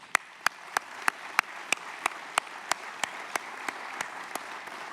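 Rhythmic, evenly spaced clapping at a regional chamber of commerce annual meeting, about fifteen sharp claps in unison, moderately near over a low background of crowd noise.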